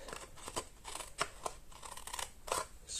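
Scissors cut through papercraft card toward a score line for a tea bag box, making a quick series of close, crisp snips in an uneven rhythm, with no voices.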